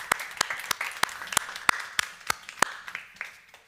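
Sparse applause from a small audience at an art and cinema talk: about a dozen distinct, sharp hand claps spaced evenly apart, fairly close and moderately loud, thinning out at the end with no voices over them.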